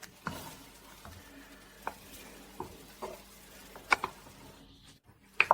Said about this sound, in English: I'm giving it a little stir again.